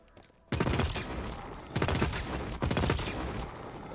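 Rapid bursts of energy-weapon gunfire in the shooter game Hawked, three loud sustained volleys close up separated by brief pauses, after a quiet opening moment.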